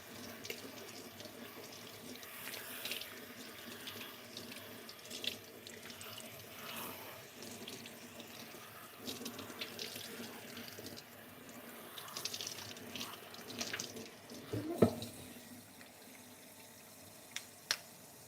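Tap water runs steadily into a salon sink during a hair wash, a continuous moderate splash with small clatters and a brief louder knock near the end, no voices.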